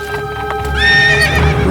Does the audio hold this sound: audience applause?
no